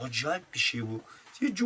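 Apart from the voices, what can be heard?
No everyday noise stands out behind the speech.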